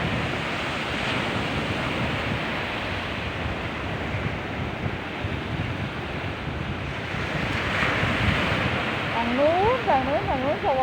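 Strong sea waves roll and crash along a Thai coast in a continuous, roaring wash of surf mixed with gusting wind noise, with a brief voice near the end.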